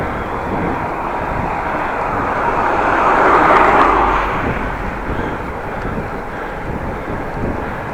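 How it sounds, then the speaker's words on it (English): Headwind buffeting a microphone while cycling between Groningen and Appingedam, a continuous broadband rush that swells louder in the middle and then eases, with no voices. "Little bit of a wind, actually a little bit of a headwind,"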